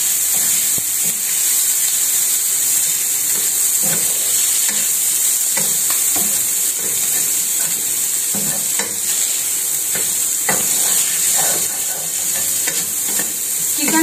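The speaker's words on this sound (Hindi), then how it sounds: "चिकन को हल्का सा फ्राई कर लें।" Chicken fries with garlic and ginger in a pan, a loud, steady close-up sizzle and hiss running throughout with scattered stirring scrapes and taps.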